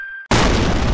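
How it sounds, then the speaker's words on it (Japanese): An animated explosion effect from explosives in a truck bed: after a brief thin tone and a moment of silence, a sudden loud, full-bodied boom erupts and roars on without letting up. "なんだ爆発した。"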